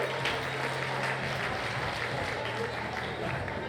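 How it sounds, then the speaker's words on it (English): Wedding reception guests give the groom a big round of applause, a dense, steady wash of clapping from a crowd that carries on evenly throughout, with some voices mixed in. "let's hear another big round of applause for our groom, Mr. Malcolm Hendy."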